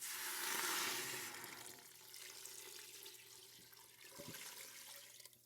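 Tap water runs steadily into a stock pot holding roughly chopped vegetables for a yellow pea soup stock made from leftover Christmas ham, loudest at first and then settling into a softer, continuous pour.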